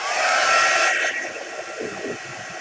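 A hair dryer blows steadily and loudly as it dries a coloured page, a whooshing roar that drops slightly in pitch partway through and then continues at a lower level.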